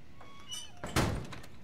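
A door closing in The Last of Us Remastered, heard as a single solid thunk after a faint creak, close and short, over quiet ambience.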